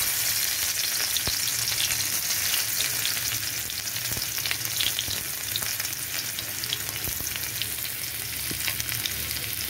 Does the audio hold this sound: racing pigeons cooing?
no